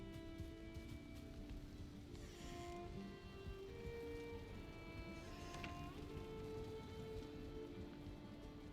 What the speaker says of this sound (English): It's even raining here too.